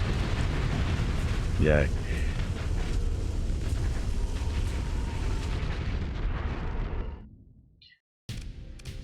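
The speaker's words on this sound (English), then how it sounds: "the ion cannon took out his engine" Ion cannon fire and explosions during a space battle in the video game Starsector, heard as a dense, loud rumble of booms and blasts that fades out near the end, with a brief cheer from a voice.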